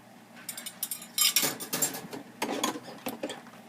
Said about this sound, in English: Washing with a dish brush among them.